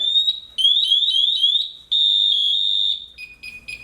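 A firefighter's personal alarm sounding during a fire department safety demonstration: loud, shrill electronic beeping that sweeps in rapid chirps, then holds a steady piercing tone before shifting to a lower pulsing pattern, close and alone.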